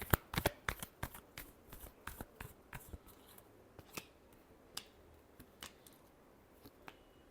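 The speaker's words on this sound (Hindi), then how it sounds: "last shuffle" Tarot cards are shuffled by hand in a series of quick, crisp riffles and slaps, dense at first and thinning out, heard up close and fairly quiet.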